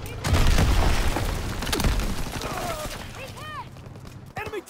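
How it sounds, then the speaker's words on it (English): Shotgun blasts and battlefield gunfire in the video game Call of Duty WW2, loud and dense at the start with booming low-end bursts, then easing under game voice chatter and radio-like chirps. "Fire the shotgun."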